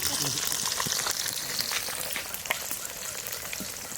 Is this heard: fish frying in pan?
yes